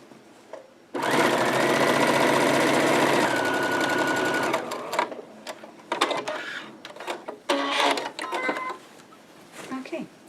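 Sewing machine stitching a fabric market tote bag: a loud, close continuous run of rapid needle chatter for a few seconds, then short stop-start bursts mixed with handling noise while a person talks.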